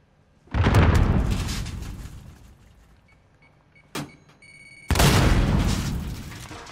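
Grenade detonation in Call of Duty: Modern Warfare: a heavy, booming blast rolls off over a few seconds, then a short sharp crack, followed by a second big explosion with a long decaying rumble.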